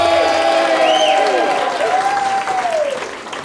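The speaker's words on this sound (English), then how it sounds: "ask all these lovely people to give you a wee round of applause" Wedding guests applaud during the reception speeches, a steady, close burst of clapping with voices and cheers mixed in that tapers off near the end.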